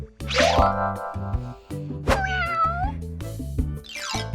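A cartoon-style cat meows loudly twice, with rising and falling tones, over a steady background music track, set in the bedroom of a papercraft Toca Boca-style play house.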